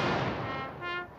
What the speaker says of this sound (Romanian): Înainte ca sicriul să ajungă în criptă, au fost trase 21 de focuri de armă.